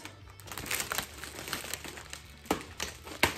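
Crinkling plastic wrapper being pulled open up close, with irregular rustles and a few sharper crackles, no talking.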